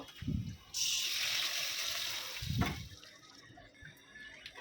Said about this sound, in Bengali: এর মধ্যে পানি দিয়ে দিব ১ কাপের মতো